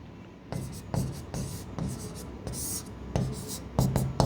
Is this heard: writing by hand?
yes